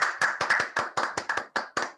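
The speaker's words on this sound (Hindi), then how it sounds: "आप लोग जोरदार तालियों से स्वागत करें।" A small group claps to welcome a speaker at an event, about ten sharp, fairly close claps in a quick, slightly uneven rhythm, heard alone without talk.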